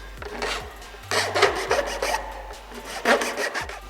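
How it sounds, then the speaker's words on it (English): A hand file smooths the cut edge of a carbon fiber undertail fairing for a 2007-2012 Honda CBR 600RR in short, scratchy rasping strokes, about four close, quiet bursts separated by brief pauses. "Then I just follow up with a file just to give it a nice finished look."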